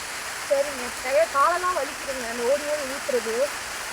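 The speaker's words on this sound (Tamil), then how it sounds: "பாருங்க பாருங்க நல்லா மழை அடிக்குது" Heavy rain falls outdoors as a steady, dense hiss throughout, while a person talks over it in Tamil.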